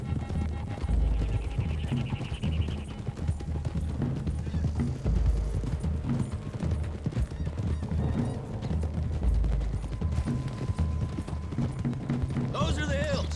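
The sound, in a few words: horses' hooves galloping in Red Dead Redemption 2 video game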